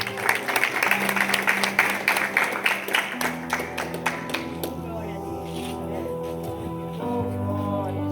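A church congregation claps for several seconds in a dense, fairly loud burst that thins out, followed by sustained organ or keyboard chords and a voice over the music.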